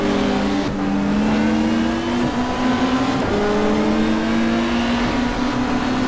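Super touring race cars, including a five-cylinder Volvo, at the 1995 Calder Park round, engines howling loud and steady at high revs, with sharp gear shifts breaking the climbing drone.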